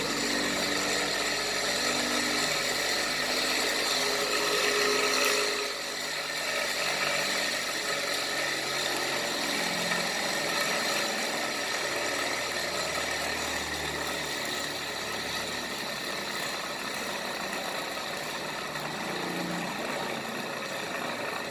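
A BLDC motor generator runs at high speed on a 7-volt supply, giving off a steady, loud mechanical whine and hum with a slight drop in level around five seconds, continuous and without talking.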